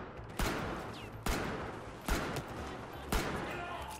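Four pistol shots in Battlefield 4, each a sharp crack at a steady pace just under a second apart, followed by a fading reverberant tail.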